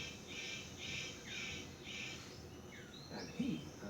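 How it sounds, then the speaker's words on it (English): A superb bird of paradise gives a series of four evenly spaced, high buzzy calls, then a few sharper squawks, faint against a dense hiss of forest insects. "The superb bird of paradise calls to attract the female."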